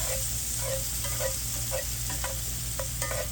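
Garlic sautéing in a pan while being stirred, a continuous close sizzle with a low steady hum beneath and soft repeated scraping strokes of the utensil, no voices.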